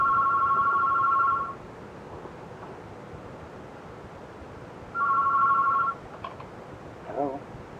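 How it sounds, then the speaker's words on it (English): An old-fashioned telephone bell rings in two separate bursts, each about a second long, over a steady hiss of tape noise. "And after a long while, a phone rings."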